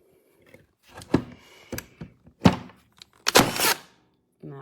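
A LINKNAL battery-powered cordless T nailer for 14 gauge 3/4-inch ST18 nails fires once, a sharp loud thunk among a few quieter handling knocks and clicks, heard close up.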